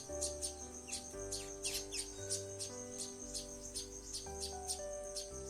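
Quick, repeated sparrow chirps sound in bursts over soft background music, bright and close, as a sparrow feeds its chick.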